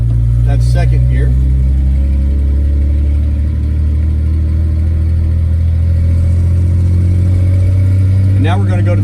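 A car with a column-shift manual gearbox holds a steady, loud mid-low engine drone, rising as it speeds up while the driver shifts into second gear. Someone talks over it throughout.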